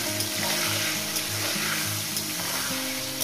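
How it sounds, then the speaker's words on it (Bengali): Tomato frying with potatoes in a pan, giving a continuous close sizzle and crackle, steady throughout with no voices over it. "টমেটোটা আলুর সঙ্গে একটু ভেজে নেবো"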